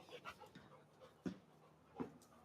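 Dogs in a workshop shed pant softly and rhythmically close to the microphone, with a couple of slightly louder breathy bursts and faint rustling in a quiet room.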